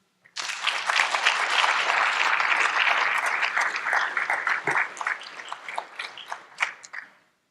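Audience applause welcoming lecturer Morris Fiorina at the Benjamin F. Marsh public affairs lecture, a full steady round of clapping from a seated crowd that swells quickly, holds for several seconds, then thins into scattered claps before stopping.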